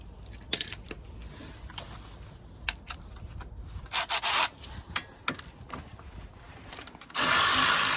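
A ratchet with a 14mm socket cracking loose a brake caliper bolt on a Volvo XC40: close, gritty clicking and scraping in uneven bursts, then a sustained harsher rasp at the end.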